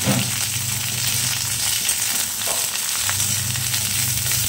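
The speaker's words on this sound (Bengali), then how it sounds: "বেশি একদমই ভাজবো না, হালকা করে জাস্ট বেগুনগুলো নাড়াচাড়া করে নেবো।" Eggplant pieces fry lightly in oil with ginger paste for Bengali shukto, a loud, constant sizzle close up, with soft stirring movements under it and no voices.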